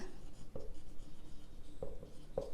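A marker or chalk scratches across a classroom board while an accounting journal entry is written out, in a few short, dry strokes with brief pauses between them and no voice over them.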